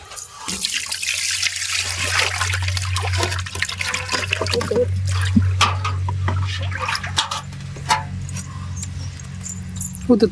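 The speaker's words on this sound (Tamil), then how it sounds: "கூட ஊத்து தண்ணி" Water pours and splashes into a container with a trickling, gurgling sound, a low hum underneath, and a few clinks and voices in the background.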